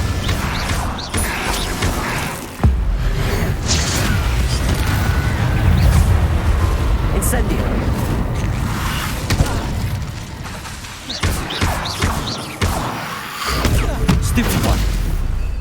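Spell combat in the video game Hogwarts Legacy with the Incendio fire spell: loud, dense bursts of whooshing flame and booming impacts, repeated sharp cracks and rumbling blasts throughout, close and continuous with brief gaps.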